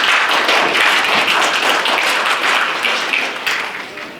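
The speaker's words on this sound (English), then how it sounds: "Please give a warm applause for Miss Samantha." At an afternoon panel discussion, the audience applauds to welcome a panelist: loud, close, continuous clapping that tapers a little toward the end.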